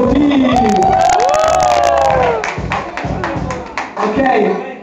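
An audience at a live head-to-head contest cheers, whoops and claps in a loud burst that fades after a couple of seconds, with a voice talking over it.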